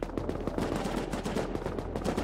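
Close, loud AK rifle fire from the survival video game Rust cracks in a fast, steady automatic stream across the whole stretch, with shots packed tightly together and no talking.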